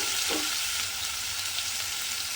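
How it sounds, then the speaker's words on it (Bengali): Chopped banana stem (thor) fries in a covered pan in the water it has released, giving a loud, steady hiss and sizzle throughout, with a brief soft stir near the start and no talking. "থোড়ের জলেই কিন্তু থোড়টা আস্তে আস্তে ভাজা হয়ে যাচ্ছে"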